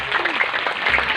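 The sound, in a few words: audience applause for Kang Haidar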